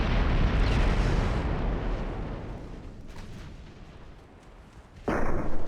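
Heavy naval gunfire from warships in the Ultimate Admiral Dreadnoughts game, a dense rumbling barrage of booms that slowly fades, then a sharp fresh blast near the end; no talking.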